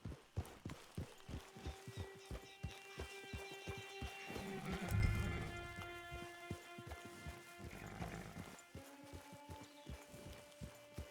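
A horse in Red Dead Redemption 2 clip-clops along at a steady walking rhythm, hooves close and clear over game ambience with tonal music, with a louder swell midway and no neigh evident.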